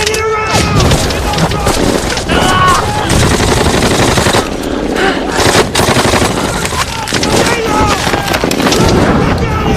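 Rapid bursts of machine gun fire crackle loudly and almost without pause, with overlapping shots echoing over rushing, wind-buffeted background noise.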